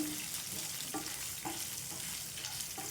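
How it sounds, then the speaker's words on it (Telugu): Coriander seeds, cumin and chillies roasting in a pan for a ridge gourd peanut chutney, a dense steady sizzle with a few soft stirring scrapes, close and unbroken. "మనకి ధనియాలు, జీలకర్ర, మిర్చి ఇవన్నీ కూడా మంచిగా వేయించుకోవాలి"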